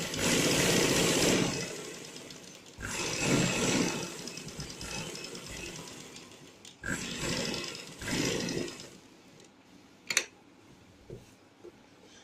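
Sewing machine stitching a designer neckline below the buckram, a steady close mechanical whir running in long bursts that stop and restart, with a few sharp clicks as it pauses.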